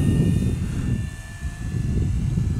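An FMS Fox 2300mm RC glider plane flies overhead outdoors, its motor giving a faint thin whine under loud wind rumble that stays steady throughout.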